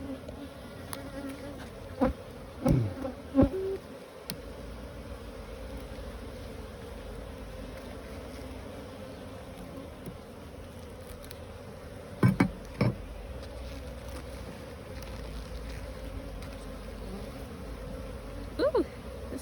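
Honeybees hum in a constant close drone while a beehive is opened for inspection, with a few brief knocks and clicks from handling frames and no clear talking.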